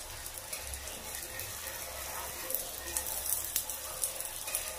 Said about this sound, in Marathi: याच्यावरती आता मी चीज टाकणार आहे आणि त्याला परतून घेणार आहे